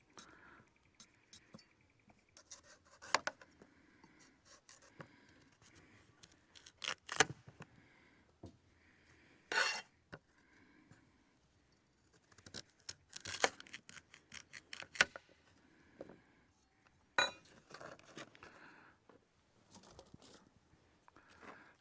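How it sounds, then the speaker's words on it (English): Knife slicing small potatoes at a camp cooking setup, a series of short crisp cuts and taps coming in irregular bursts with quiet gaps between, close by. "You want to just knife the potatoes."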